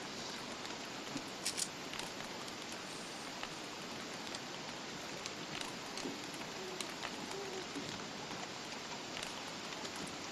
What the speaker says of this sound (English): Come on, Rain, go away.